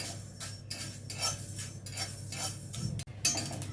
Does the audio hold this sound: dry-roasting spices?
yes